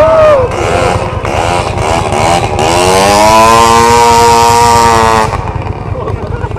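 A loud motorcycle engine revving up and holding a high, rising whine before dropping off, with a voice talking over it, at a loudness measurement during a motorcycle season-opening event.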